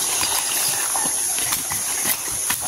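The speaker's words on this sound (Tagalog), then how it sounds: "Lalaki ba ito yung kabayo?" A horse walks on a farm path, its hooves clip-clopping in a steady rhythm close by, over a constant high hiss of background noise.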